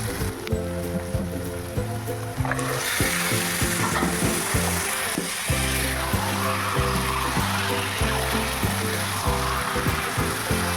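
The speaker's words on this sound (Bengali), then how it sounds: "ভাজা ভাজা হয়ে গেছে এবার দিয়ে দেবো চিকেনটা" Chicken sizzling in hot oil in a pan after onions and ginger-garlic paste, with a steady loud fry and rhythmic scraping of a spatula stirring throughout, the sizzle swelling after the first couple of seconds.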